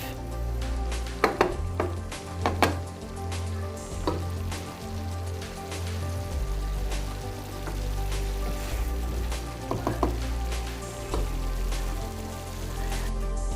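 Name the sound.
ground beef with taco mix being mixed while cooking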